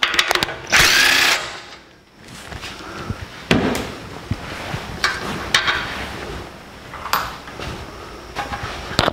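Power tools work on radiator fan removal from a 1949 Chevrolet gasser: a loud burst of whirring, then quieter intermittent ratcheting, clunks and clicks of parts coming loose, close by, with no talk.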